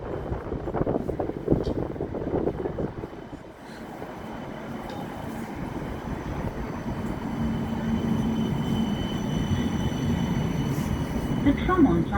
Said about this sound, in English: The next tram to arrive is to Wolverhampton St George's.